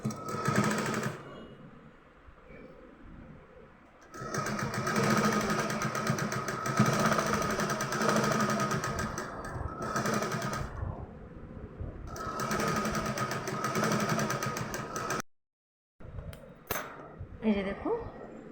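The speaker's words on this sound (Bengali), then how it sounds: "ঠিক একইভাবে আমি এই পাশটাও সেলাই করে নেব।" A sewing machine runs in bursts while stitching the seams of a soft teddy bear toy, its rapid mechanical chatter close and loud, separated by pauses with soft handling noises.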